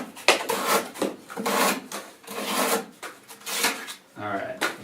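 A ZT0770 knife blade slicing through cardboard, cutting across and along the grain: repeated rasping, scraping strokes in uneven bursts, close and fairly loud, with a voice talking over parts of it.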